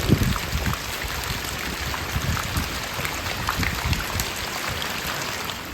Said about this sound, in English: it is just pouring down rain